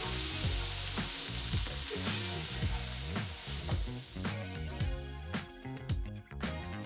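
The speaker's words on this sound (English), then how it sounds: "we're gonna start cooking the beef now. When cooking the beef, we're gonna use peanut oil" Beef cooking in hot peanut oil in a pan, giving a steady loud sizzle broken by repeated scrapes and stirring knocks, with no talking.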